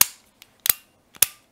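A spring-loaded electrical contactor switches with crisp, loud clacks, three main snaps in quick succession, each preceded by a faint small tick, heard close and alone.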